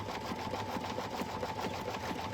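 An embroidery machine stitches a puff foam in-the-hoop bag, its needle chattering in a steady, fast, loud hum that runs close and continuous with no voices over it.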